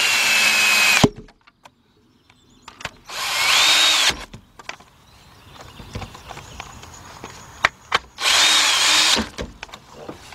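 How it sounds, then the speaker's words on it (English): Cordless impact gun fitted with a 10 mm socket spins off ignition coil bolts on a 2005 Nissan Pathfinder 4.0, three loud whirring bursts with quieter clinks and handling noises between them. "Got my cordless gun, my 10 millimeter on it, and we're just gonna go down there"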